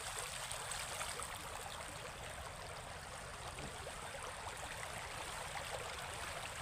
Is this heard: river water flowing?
yes